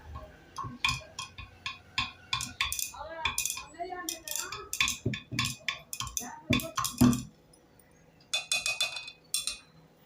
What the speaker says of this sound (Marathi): छान तुम्ही एका लांब चमच्याने त्याला ढवळून घ्या मी या स्टिकने ढवळून घेणार आहे